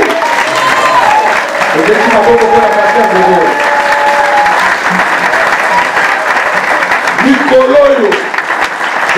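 At a church book-signing event, a crowd claps loudly and continuously for the pastors while a voice speaks and cheers over the sustained applause.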